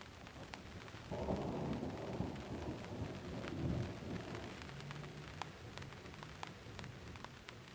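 Rain patters steadily on a trampoline overhead, giving a close, crackling drum of drops, while a low roll of thunder rumbles through the middle of it.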